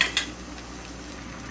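Potatoes and shrimp are stir-fried in a pan. Two quick utensil clanks against the metal come first, then a steady soft hiss. The sound is brief and close, with no talk.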